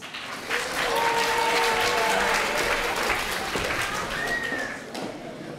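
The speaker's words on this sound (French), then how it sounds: "Et on applaudit Nora" A room of listeners at a literary meeting at the BNF applauds Nora after her reading, with dense, steady clapping that swells quickly and then holds at a level. A few voices and faint tones show through the clapping.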